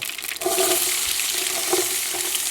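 Fennel seeds crackle and splutter in hot oil in a close, continuous bright hiss that holds steady after a brief softer start.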